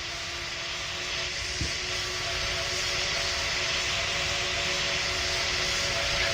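An airplane engine roars steadily during takeoff in Roblox Pilot Training Flight Simulator, a loud sustained jet-like whine and rushing noise that slowly builds, with no talking.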